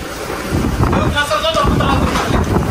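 Strong wind buffets the microphone in loud, rumbling gusts, with faint voices in the background.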